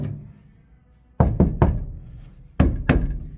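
Knuckles knock on a truck door lined with sound-deadening material, giving dull muffled thuds: a quick group of three, a pause, then two more, close and fairly loud with no voices.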